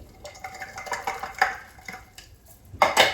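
Crushed almonds being stirred and roasted in flour in a pan, a metal spoon scraping and clinking against the pan in an irregular rhythm, close and moderately loud, with no speech.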